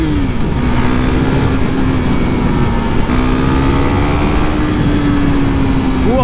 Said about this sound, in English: revving the bejesus out of this engine